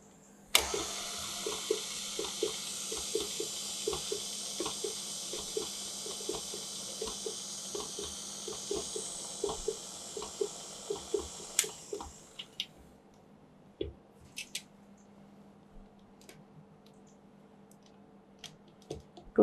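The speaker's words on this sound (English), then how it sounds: "So half of the milk goes in. I'm just going to beat on slow speed." Electric hand mixer beating vanilla cupcake batter with half the milk added on slow speed, a steady whirring hum with rhythmic beater clicks for about twelve seconds before it stops, leaving scattered small knocks.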